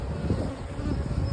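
Honey bees buzz around hive frames, a close, steady, droning hum.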